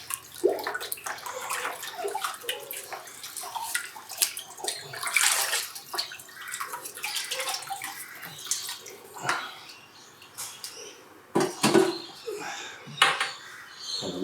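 Running water rinses the protein skimmer cup of a nano reef aquarium, splashing and sloshing with clinks of the cup against a container, fairly close, with irregular bursts and no talk.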